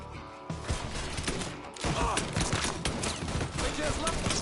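Gunfire from the video game Mafia 3, a rapid burst of loud shots that fills the moment and continues after a brief pause, with voices faintly mixed in.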